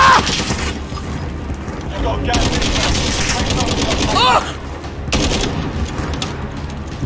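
Gunfire from a sniper rifle in Call of Duty Warzone, loud booming shots and rattling bursts that run throughout, with players talking over the shooting.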